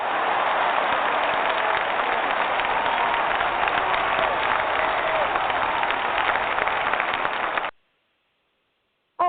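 Studio audience applauding to welcome a guest, a businesswoman who runs a coaching company; steady, dense clapping fills the space for several seconds, then cuts off abruptly into silence.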